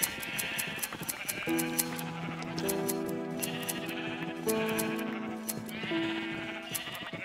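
Repeated sheep bleats from the video game Minecraft, several animals calling in turn with a steady electronic background, loud and close with no talk.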